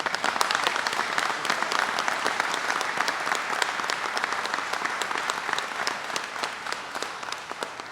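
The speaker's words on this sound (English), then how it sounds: "I want to give a big cheer for all the Wegman employees that are here today." A crowd inside a Wegmans supermarket applauds its store employees, steady moderate clapping with some distinct individual claps standing out, fairly distant and continuous throughout.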